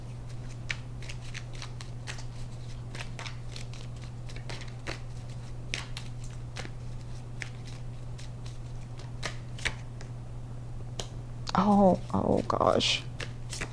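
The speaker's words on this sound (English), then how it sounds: "I'm gonna pull one more card for that." Tarot cards snap and riffle in quick bursts near the end of a steady hum, with light card handling and taps scattered earlier; a voice briefly exclaims.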